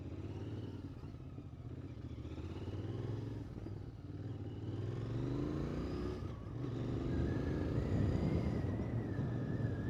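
A 2022 Royal Enfield Interceptor motorcycle in first gear, its engine droning and rising and falling as the throttle comes on and off, close and steady over wind noise.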